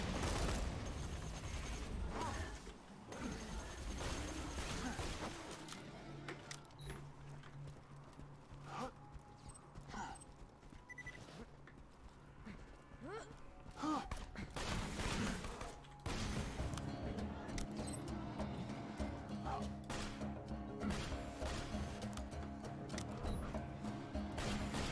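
Gunfire in Borderlands 2 comes in a busy, uneven jumble of sharp shots and clattering bursts, some bunched closely and others spread apart, mixed with mechanical clanks and other game noise.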